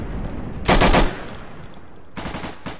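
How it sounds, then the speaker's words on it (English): A Thompson submachine gun fires in the World War II shooter Day of Infamy, set at the Battle of the Bulge: one loud, rapid burst near the start, then a shorter, fainter burst near the end. "I heard a Thompson."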